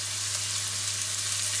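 Chopped onion with a pinch of salt sautés in a pan over medium-high heat, producing a dense, continuous sizzle that is close and steady.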